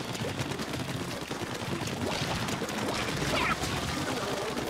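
Rapid gunfire from ink weapons in the shooter game Splatoon, a steady dense spray of shots running throughout at moderate level with no talk over it.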